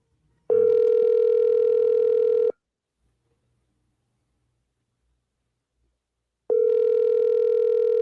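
A telephone tone sounds twice over a radio talk-show line, a steady electronic buzz lasting about two seconds, then silence, then the same tone again.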